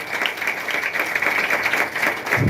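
An audience at a motivational talk claps steadily and fairly loudly, a dense, even patter of hands throughout with no speech over it.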